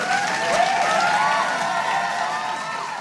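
An audience applauds and cheers at a political talk event, with a thick wash of clapping and some raised shouts and whistles under it, holding at a steady level.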